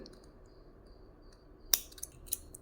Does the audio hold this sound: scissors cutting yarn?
yes